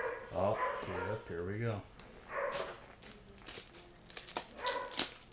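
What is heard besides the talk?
dog barking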